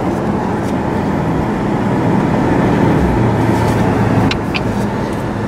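A Porsche Panamera Turbo engine sounds near and loud, a steady low rumble that swells slightly midway and holds throughout, with no talking.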